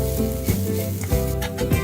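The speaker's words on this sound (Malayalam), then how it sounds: "കടുക് പൊട്ടിയതിന് ശേഷം ചതച്ചു വെച്ച അരപ്പ് അതിലേക്കിട്ട് പച്ചമണം മാറുന്നത് വരെ ഇളക്കുക." Ground spice paste sizzling and crackling in hot oil with popped mustard seeds, stirred in a pan for Kerala papaya thoran, a dense close frying hiss with a few scraping stirs.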